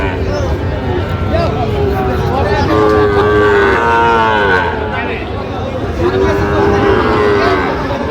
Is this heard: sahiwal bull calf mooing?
yes